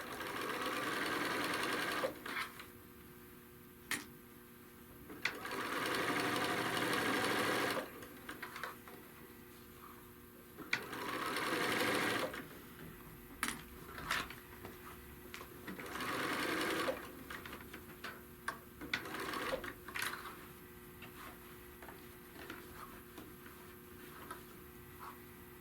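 A sewing machine stitches down a bag handle in several runs of rapid, steady whirring, separated by pauses filled with clicks, handling noises and quiet speech.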